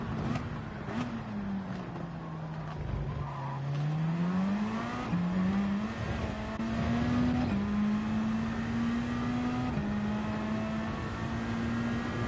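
Race cars in Gran Turismo 7 roar along the track, engine notes climbing and dropping through repeated gear shifts, with several cars droning close together and a faint tyre squeal at one point.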